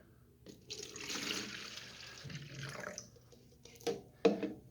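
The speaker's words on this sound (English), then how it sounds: "So I'm going to pour that into my quart container." Water poured from a pint container into a quart container, a close, soft splashing and gurgling pour lasting a couple of seconds, followed by a few brief louder splashes and drips near the end.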